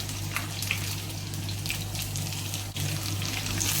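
Onions and green chili, with coconut pieces, sauté in a pan for a mushroom stir-fry, giving a continuous close sizzling hiss with a faint steady hum underneath.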